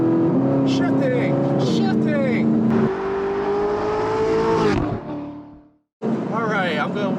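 Audi R8 with S-Tronic transmission accelerating hard in a loud steady engine drone, then a sudden drop as it shifts, a brief near silence, and the engine roaring back; people talk over the engine throughout.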